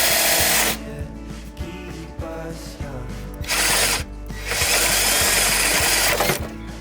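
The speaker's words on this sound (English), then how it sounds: "So I marked it and then drilled the hole." Power drill boring a hole for a faucet during a camper van renovation, heard up close as loud whirring bursts that start and stop several times, with no talking.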